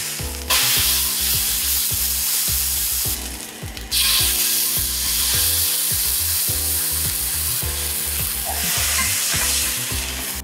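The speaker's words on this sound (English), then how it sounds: "So now that we just finished searing up this Chateaubriand" Chateaubriand beef fillet sears in a hot pan for a beef Wellington, a loud steady sizzle with scraping and stirring of the meat, a brief dip near the three-second mark, and no talking.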